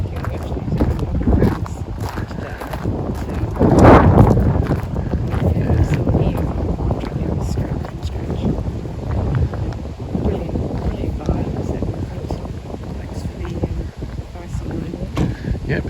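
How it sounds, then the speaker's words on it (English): Breezy wind buffets a microphone outdoors on high ground at Hardwick Hall, Derbyshire, with a strong rumbling gust around the fourth second and uneven lower gusts after it, and muffled voices partly beneath it. "it's a bit breezy up here"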